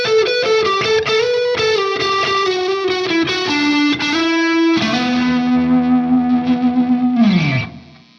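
Fender Stratocaster through a Strymon Iridium amp modeler pedal, played loud with distortion and chorus: sustained notes and strummed chords, ending on a ringing chord that wobbles and fades, with no talking.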